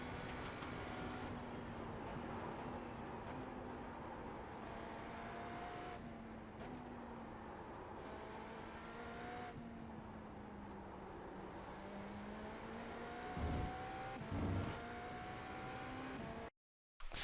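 Race car at full speed on a track in iRacing, a GTP prototype, its engine note holding a steady loud drone that rises and falls with shifts through a series of kinks, with a few brief bumps near the end before cutting out.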